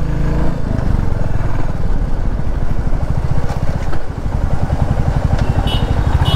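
A Royal Enfield Classic 350 motorcycle on a test ride, partly off-road, with its steady, loud thumping engine and exhaust running close by throughout.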